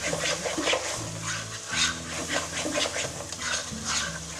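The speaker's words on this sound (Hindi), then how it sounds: "और इसको थोड़ी देर फिर पकाएंगे हमारे मसाले पकने तक" Masala spices, including chhole masala, coriander powder, turmeric, garam masala and red chilli powder, cook in a pan while being stirred. A close, steady scraping and sizzling continues throughout, with no talking.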